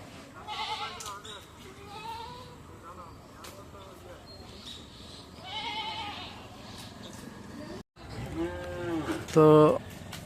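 Goats bleat several times in short, wavering calls at close range, amid rustling, with a louder bleat near the end, as they eat turmeric leaves.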